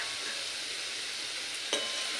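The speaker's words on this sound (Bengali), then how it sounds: "সবজিটা একটু রং ধরে হালকা ভেজে নিই।" Vegetables fry lightly in a wok with a soft continuous sizzle, and a spoon gives a brief scrape partway through, quiet and close with no talk.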